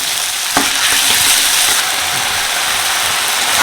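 Prawn paste fries with onions in a hot pan, a loud continuous sizzle with scraping stirring strokes running throughout and no talk.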